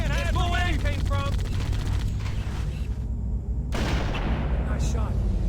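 Loud, dense gunfire from Halo: Combat Evolved, played on Legendary, fills the scene with repeated bursts and booms, mixed with game music and a player's voice talking over the action.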